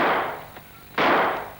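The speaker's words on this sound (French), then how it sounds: "Huck n'aimait pas les bagarres et encore moins les coups de feu" Two sharp gunshots in a French audio drama, a fainter crack followed about half a second later by a louder, fuller blast with a short decaying tail, no voices over them.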